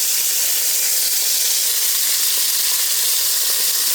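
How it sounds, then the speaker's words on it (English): Beef short ribs searing in a very hot pan, a loud, dense, steady sizzle close up with no pauses. "I'm going to sear these in batches because I want the pan to stay very hot"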